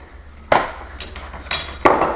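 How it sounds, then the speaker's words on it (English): A deadbolt latch being set square into a door edge is tapped in with a few sharp, close knocks spaced about half a second apart, with quiet room tone between. "put that in there nice and square, give it a tap"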